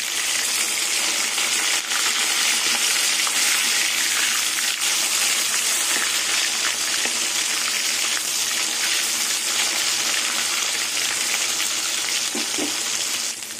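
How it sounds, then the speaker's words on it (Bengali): Pieces of bhola fish frying in hot oil in a pan make a loud, continuous hiss and sizzle, with occasional faint clinks, and no voices. "এবার মাছগুলো তেলে ভেজে নেব।"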